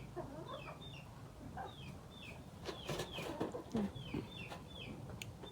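Chickens cluck repeatedly in an outdoor rural setting in Thailand, with several birds calling at close to mid distance over a steady low background, clucks coming in irregular bursts and growing busier toward the middle.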